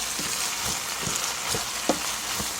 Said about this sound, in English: I'll just put in my cabbage a little at a time while I stir it